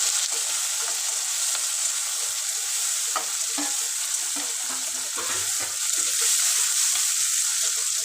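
Onion, green chillies, curry leaves, cumin, mustard seeds, ginger and tomato fry in a pan, a steady loud sizzle with occasional stirring scrapes, close and continuous, with no talking.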